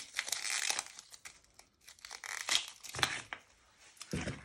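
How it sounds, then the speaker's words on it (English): Dry outer layers of onion skin are peeled off by hand, making close crackly tearing and crinkling sounds in short irregular bursts with no voices. "And then you want to peel the 2 layers of skin off your onion."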